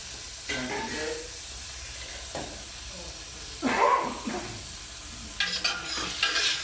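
Stir fry sizzling in a hot pan on a home stove, a soft steady hiss with scattered stirring scrapes and louder spurts of frying, fairly quiet and close.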